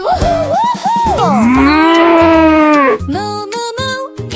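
A cow moos on a farm in a children's cartoon: one long, drawn-out, tonal moo rising and falling, with shorter bright musical notes around it.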